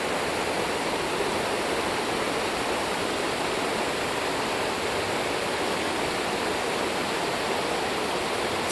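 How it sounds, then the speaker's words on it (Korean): Water pours down twin waterfalls at Naeyeonsan, South Korea, in a constant, full roar of broadband rushing, steady and unbroken from start to finish, with no voices. "양쪽으로 쌍으로 해서 폭포에서 물이 내리고 있는데요"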